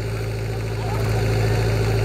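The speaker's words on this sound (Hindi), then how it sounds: "भाई ट्रैक्टर को पहले बोल रहे हैं कि घुमा ले" A Sonalika DI 55 DLX tractor engine idles steadily and close by, a constant low diesel rumble with a faint vibrating hum and no voices.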